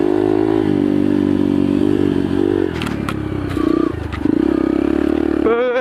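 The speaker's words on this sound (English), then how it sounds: "I fucking know I'm gonna ride in the Pitbike track." A pit bike engine roars up close as it rides a dirt track, its pitch climbing and dropping with each rev and gear change, with a rattling clatter as the throttle eases off.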